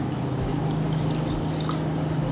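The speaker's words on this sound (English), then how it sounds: "In a pot, I will add rice vinegar" Rice vinegar pours steadily into a cooking pot as pickling liquid is started, a continuous soft liquid rush with faint trickling over a low hum, close and unbroken with no voices.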